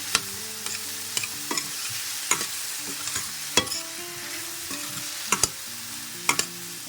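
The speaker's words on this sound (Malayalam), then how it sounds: "ജസ്റ്റ് നമുക്ക് നെയ്യിലൊന്ന് ഇളക്കിയെടുത്താൽ മതി" Plantain stirred in ghee in a pan, with a soft frying sizzle underneath and repeated sharp scraping clicks of the spoon against the pan at an irregular, unhurried pace.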